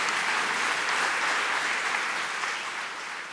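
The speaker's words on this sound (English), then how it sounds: "please feel free to clap for both of them" A room full of people applauding after a debate, a dense burst of clapping that holds steady and then begins to fade at the end.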